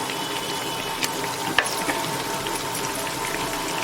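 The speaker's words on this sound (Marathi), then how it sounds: "दुसरा पण ब्रेड आपण परतून घेऊया" Besan-coated masala bread toasting in a pan, giving a steady close sizzle of frying with a faint clink midway, no talking.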